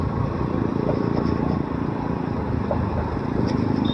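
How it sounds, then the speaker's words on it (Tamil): A motorcycle fitted with an Akrapovic aftermarket exhaust drones steadily on the road, a loud, continuous low engine note with wind noise and no clear rev peaks. "ஆக்ரோபோவிக் சவுண்டு பட்டையை கிளப்புது."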